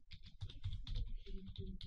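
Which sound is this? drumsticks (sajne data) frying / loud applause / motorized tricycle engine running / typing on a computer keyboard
typing on a computer keyboard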